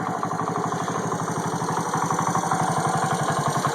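A restored 1984 Honda ATC 125M three-wheeler idles at about 1,000 RPM, its small single-cylinder engine putting steadily and evenly, close and moderately loud, with no talking.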